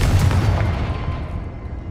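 A Confringo spell explosion in the video game Hogwarts Legacy, a deep rumbling boom heavy in the low end that decays gradually over about two seconds, loud and with no talk.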